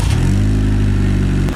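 A race car engine roars loudly and steadily at high revs with a deep, rumbling drone throughout, then cuts off abruptly near the end, with no voices.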